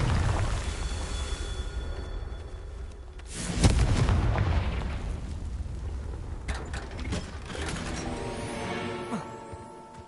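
Confringo fire spell going off in the Hogwarts Legacy video game, a deep booming blast around the middle with rumbling crackle, followed by whooshing magical effects and shimmering tones.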